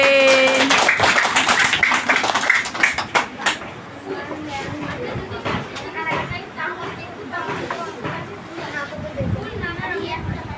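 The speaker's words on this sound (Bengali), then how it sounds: "ওর জন্য হাততালি" Classroom applause for a fifth-grade student, a brief burst of many hands clapping at the start, followed by a teacher talking over lighter taps and room noise.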